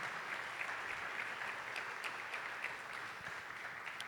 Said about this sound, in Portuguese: Eu queria um aplauso a Jesus pela nossa equipe de mídia, por favor